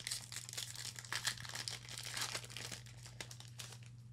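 Altered TCG booster pack wrappers crinkle and tear as they are opened, close and fairly quiet, with bursts of crackling plastic over a low steady hum.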